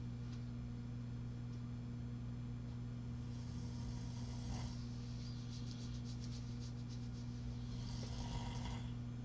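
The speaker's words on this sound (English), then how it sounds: "Do you hear my boyfriend snoring?" A man snores in a quiet room, soft rasping breaths in slow cycles, faint and somewhat distant beneath a steady low hum.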